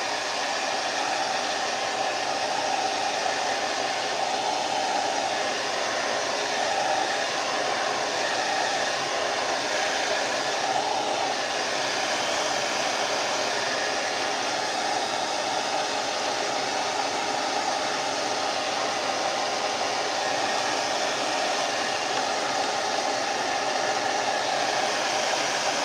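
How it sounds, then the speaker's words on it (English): A hair dryer running continuously at close range, a steady, loud airy whoosh with a constant motor hum and no talk throughout. "The hairdryer."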